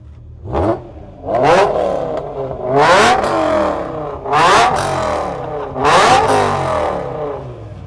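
An EV-swapped Ford Foxbody with a 5-speed manual revs in five rising, whining pulls, each climbing in pitch and fading before the next, loud and close with no talking.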